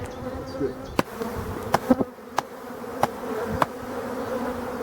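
A dense swarm of honey bees buzzes continuously as a frame is shaken at an open hive, with a few sharp knocks and thumps cutting through the steady hum.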